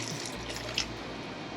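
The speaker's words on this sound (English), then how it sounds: "Chicken stock. Now the recipe calls for water or stock." Chicken stock poured into a pot of Texas chili, a steady splashing stream of liquid running continuously with a brief brighter splash midway.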